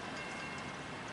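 A freight train at Folkston, Georgia makes a steady, dense rumble and roar with no pauses, loud and continuous for the whole brief moment.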